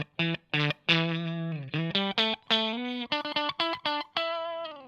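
Electric guitar played through a Wampler Ego compressor pedal with the blend control dialed back from its extreme, giving a run of plucked notes and short chords with crisp attacks, some brief gaps, played alone and fairly loud.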